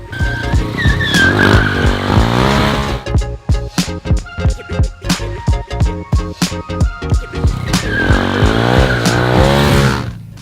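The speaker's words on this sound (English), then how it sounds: "it's time to slip your rear tire" A car drifting with its rear tires slipping, loud and close: sustained tire squeal and engine roar open and close the stretch, with a choppy run of rapid pulsing bursts between them.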